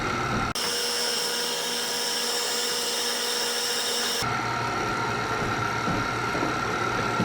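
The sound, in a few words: electric mixer mixing banana bread batter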